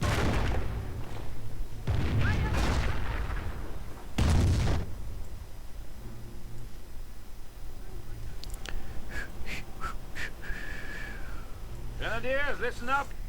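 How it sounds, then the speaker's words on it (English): Nebelwerfer rocket artillery fires in a World War II strategy video game, with several heavy booming bursts early on, then lighter gunfire and whistling effects later, all under steady commentary. "Nebelwerfer's firing away."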